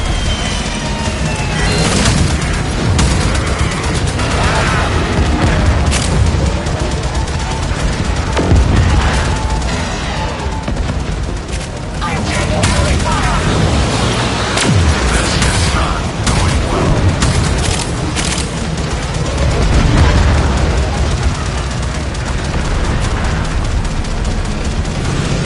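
Explosions and gunfire roar through a Warframe space battle as ram sleds launch, a dense, loud, continuous barrage of booms and rapid shots with scattered bursts and faint voices mixed in.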